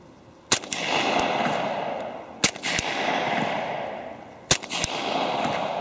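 Three suppressed shots from a Glock 30 in .45 with a threaded barrel, firing Underwood 230 grain full metal jacket ammunition, each a sharp loud crack spaced about two seconds apart, fairly close and alone with no talk.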